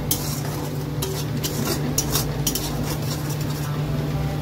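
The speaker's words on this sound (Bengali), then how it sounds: "আর এইদিকে এটাও কষছে" Spices sautéing in a pan for a vegetarian Bengali dish, a soft continuous sizzle with scraping and clinking of a spoon against the pan, several light metallic taps in sequence, no one talking.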